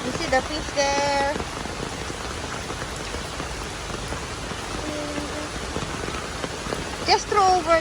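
Steady rain patters across surfaces in a Singapore village kampong, a dense continuous wash of drops that is heard alone for most of the time, with brief voices near the start and end.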